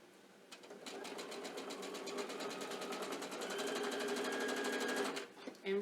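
Sewing machine stitching rick rack binding in the ditch, a close, fast even run of needle strokes that speeds up slightly before stopping, followed by a brief click.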